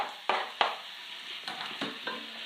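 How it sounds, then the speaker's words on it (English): Tomatoes and chilli stirred into dal in a pan, a low sizzle broken by several sharp spoon scrapes and clacks against the pan, close and without speech. "Give it a bit of a stir."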